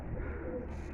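Pigeons in a loft give soft, low cooing, a brief murmur close by with faint background hiss and no talking.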